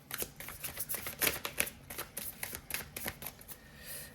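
Oracle cards shuffled by hand in a quick, continuous riffle of papery flicks and slaps, close and fairly soft, with no talk.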